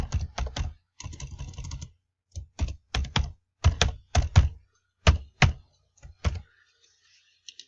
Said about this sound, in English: Now we can go down and type in a new password.